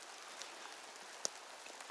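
Rain falls steadily in a forest on a wet day of mushroom picking, a faint, even patter with scattered drop ticks and one sharper close drip, with no voices.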